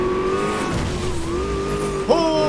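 Dom's Charger in the racing game NFS Most Wanted, its engine droning steadily with a rising and falling whine and tire squeal, plus a sharp pitch jump near the end as the revs climb.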